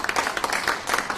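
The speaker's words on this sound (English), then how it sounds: "you give her please another round of applause" An audience claps together in a steady, dense burst of applause filling the room at a conference lunch session, brief and fairly close, with no talking over it.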